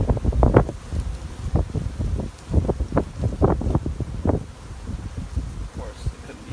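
Wind gusts outdoors batter the microphone in uneven low rumbling puffs, rising and falling in loud bursts over several seconds with no voices.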